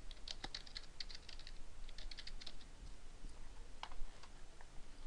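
Quiet bursts of keystrokes on a computer keyboard as a folder name is typed, irregular clusters of close, light clicks with short pauses between, alone with no voices.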